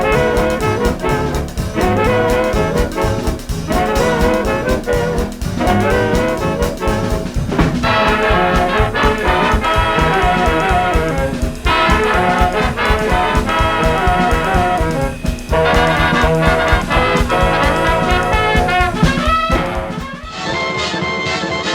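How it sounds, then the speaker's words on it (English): Drum kit playing a 1930s big band swing beat inside a full, loud ensemble texture, with a steady driving pulse and punctuating snare accents running continuously throughout. "So the big band swing could sound something like this."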